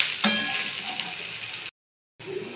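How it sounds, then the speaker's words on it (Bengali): Onions frying in a pan for a katla fish curry, a steady close sizzle with crackling that runs for under two seconds, then cuts to silence before resuming. "পেঁয়াজটা প্রায় ভাজা হয়ে গেছে।"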